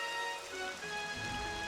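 Steady rain pours down in a Super Mario Galaxy level, the Gold Leaf Galaxy, a dense continuous hiss of falling drops with faint tonal game music threaded through it.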